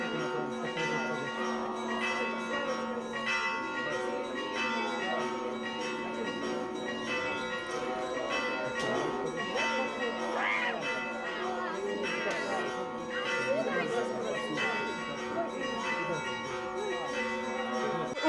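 Church bells ring through a Trinity feast procession, a dense layered peal of overlapping clangs and hums sounding continuously at moderate distance, with crowd murmur faintly beneath.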